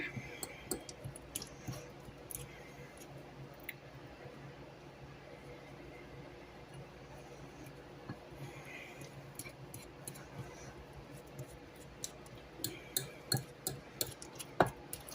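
A fork mixing cream cheese in a bowl, soft irregular clicks and taps that grow quicker and more distinct toward the end, quiet and close, with faint talk in places.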